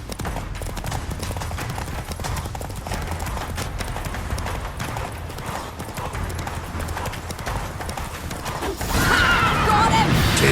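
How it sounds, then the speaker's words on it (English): A horse galloping in The Witcher 3, rhythmic hoofbeats drumming steadily through the whole stretch, with a sharp whinny and louder surge near the end. "Grab a horse, we'll chase him down."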